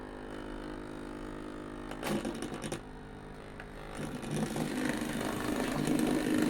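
A low, steady motor hum with faint mechanical whirring from a Hornby Caledonian Single model locomotive, swelling slightly in the second half as it starts turning slowly.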